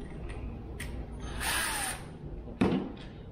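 Power tool or ratchet tightening battery terminal bolts during a secondary battery install in a Jeep JL Wrangler, with short mechanical bursts around a longer whirring run and a sharp clack near the end.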